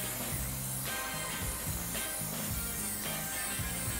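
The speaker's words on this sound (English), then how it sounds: "watch how quickly all of the remaining grime just gets driven out as we spray this" Steady hiss of cleaner spraying continuously at close range onto a motorcycle chain, with faint rhythmic mechanical clicking underneath.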